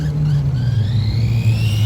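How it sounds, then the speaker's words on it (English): A small electric motor whines steadily close by, its pitch slowly climbing as a 1991 Tamiya Ferrari F40 RC pan car speeds up, with a low rumble underneath. "Has a nice sound to it, like all pan cars do, have that nice, smooth sound."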